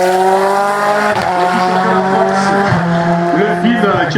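Race car pulling away at the La Pommeraye hill climb, its engine loud and close, revs rising and dropping through quick gear changes, with a French commentator talking over it.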